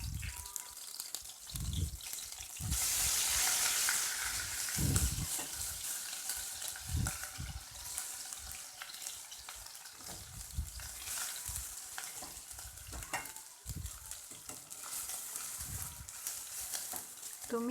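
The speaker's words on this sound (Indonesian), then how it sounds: "Nah, ini kita tumis." Beef with ginger and nutmeg sautés in a pan for sop daging sapi, a steady soft sizzle with occasional stirring scrapes and bumps, fairly quiet and continuous throughout.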